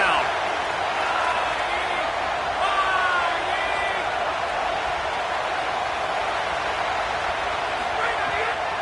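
Loud football stadium crowd roaring steadily on third down during a Georgia versus Indiana game, a dense continuous wall of noise with a few whistles and whoops, under a commentator's voice.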